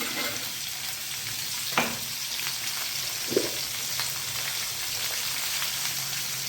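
Green chillies for chilli sambharo sizzle and fry in a pan with a steady, close crackling hiss, broken by a couple of brief scraping stirs.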